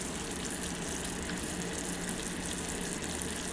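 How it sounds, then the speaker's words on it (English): Sugar boils rapidly in a pan while caramelizing for a pineapple upside-down cake, a dense continuous fizzing and bubbling heard close up at a steady level, with no talking. "My sugar is bubbling rapidly, so we're going to let this bubble until it gets nice and slow and it begins to caramelize."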